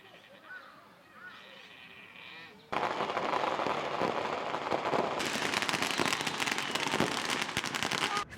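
After a quiet stretch with voices, a dense burst of loud crackling pops erupts and continues rapidly, like a string of firecrackers going off nearby.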